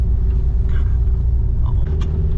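A car drives along a track through dark, thick woodland, its engine a loud, steady close-up rumble with faint rattles on top and no talking.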